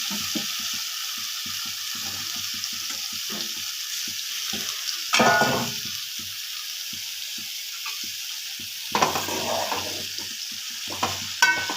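Brinjal frying in a pan with green chilli and turmeric, a steady close sizzle with rhythmic spoon scrapes and stirs repeating every fraction of a second, plus a few louder clattering knocks.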